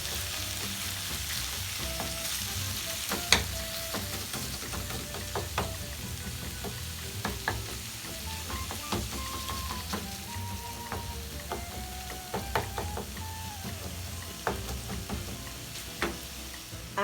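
Ground beef frying in a pan, with a steady crackling sizzle running throughout and occasional sharp clinks and scrapes of a utensil stirring the meat.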